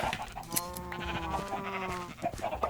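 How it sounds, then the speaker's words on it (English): Sheep bleat in a farm video game, wavering drawn-out calls that overlap with clicks and other game sounds, close and fairly loud. "Shear the sheep."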